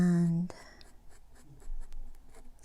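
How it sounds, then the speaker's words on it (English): An alcohol marker scratching across cardstock while coloring, with soft, faint strokes following a brief tone at the start, and a voice speaking over it. "I try to be light as I color, especially with alcohol markers"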